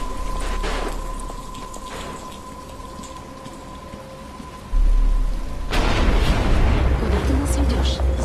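Rain falls in the video game Batman: Arkham Asylum as a steady hiss with a low rumble, swelling louder partway through as the downpour intensifies, with voices heard in the scene.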